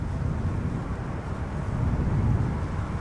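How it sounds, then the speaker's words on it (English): A KLM Boeing 787-10 Dreamliner arriving at Amsterdam Schiphol makes a low, steady jet rumble at a distance, with no talking. "KLM Flight 644, 787-10 Dreamliner, the PHBKM"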